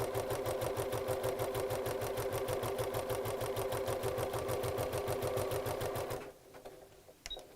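A sewing machine stitching steadily along a length of cord, its rapid, even needle clatter running close and continuous for about six seconds before stopping abruptly, leaving a few faint handling sounds.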